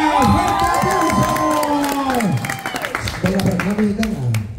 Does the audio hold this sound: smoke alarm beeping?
no